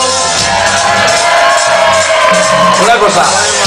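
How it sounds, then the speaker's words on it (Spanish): A live show audience cheers, whoops and shouts loudly in a dense, continuous crowd roar. "vamos a darle un fuerte aplauso"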